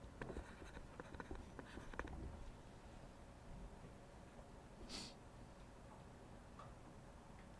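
Pen or marker writing out an equation for a physics lesson, with faint scratchy strokes and small ticking taps in short bursts, quiet and close, plus a brief breathy noise near the middle and no talking.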